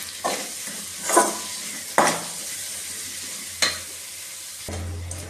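Spicy pepper corn rice stirred in a pan: about five scraping, swishing strokes spaced a second or so apart, close and fairly loud over a soft low sizzle, with no talking.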